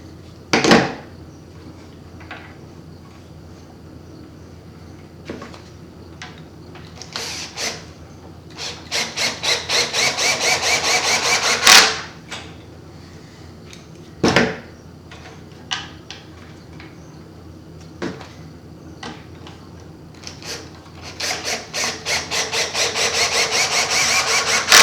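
Cordless drill with an auto clutch drives screws into a Salomon SNS cross-country skate ski binding, giving repeated whirring bursts that end in rapid ratcheting clicks as the clutch slips, separated by quiet pauses.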